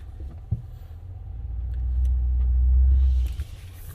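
A 2020 Toyota Tundra Pro pickup on Falken Wildpeak AT3W 295/70/18 tires rolls up onto a curb, giving a close, steady low engine rumble that swells midway and then eases off, with no talking.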